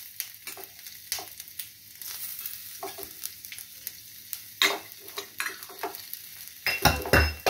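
Chopped ginger frying in hot oil in a pan with black cumin and curry leaves for masala idly, making a crackling sizzle with sharp spattering bursts and scraping stirs, close and fairly loud.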